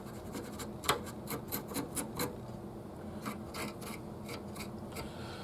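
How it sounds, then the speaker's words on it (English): A Scotch-Brite pad scrubs an old guitar rescued from an attic. It gives brisk repeated rasping strokes, a quick run early on, a pause, then another series, close but fairly quiet over a steady background hum. "we're going to kind of get in there with the Scotch-Brite pad just a little bit and just kind of try to get things shined up"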